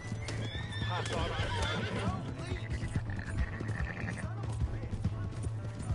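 A horse whinnies loudly and hooves clip-clop amid shouted voices, busy game-style sound effects layered over the scene.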